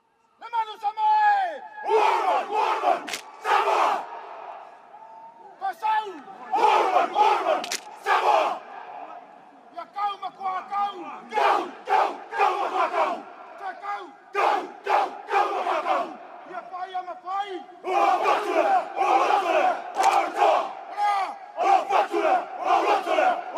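Samoan rugby team performing the Siva Tau war challenge before a match in France: loud rhythmic chanted shouts from the players in repeated bursts, over a roaring crowd throughout.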